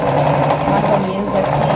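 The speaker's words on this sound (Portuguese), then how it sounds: "Vou passar uma costura também aqui, ó." A sewing machine stitching a seam on a hooded towel runs in a steady, close, continuous whir for under two seconds.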